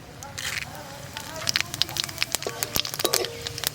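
Bay leaf, dried red chillies and cumin seeds hit hot oil in a kadai, sizzling with sharp crackling pops that grow busier toward the end, while someone talks over the frying.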